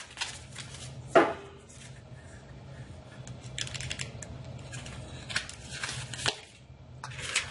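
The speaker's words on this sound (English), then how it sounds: "Some more shuffling." Tarot cards being shuffled in quiet, soft papery riffles and rustles spread across several seconds, with a couple of sharper snaps along the way.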